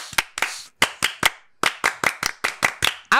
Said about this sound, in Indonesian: Ya, Tepuk Pramuka.